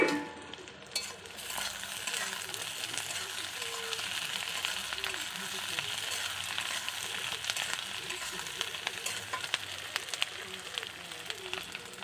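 Capsicum tossed into a pan of fried onion, a soft, steady sizzle with light stirring scrapes, fairly quiet and continuous throughout.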